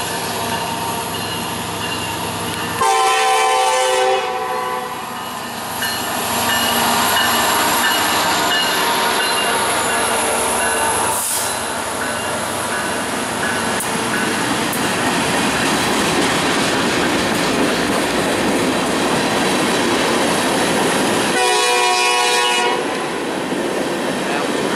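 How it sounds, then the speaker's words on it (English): A train rumbles past at length with grinding wheels and rail clatter, while a loud horn blasts near the start and again near the end. "I think it's freight. I think or it's a grain train."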